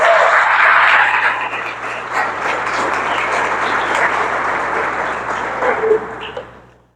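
A church congregation breaks into dense, sustained applause that fills the space, holding steady for several seconds before tapering off at the end.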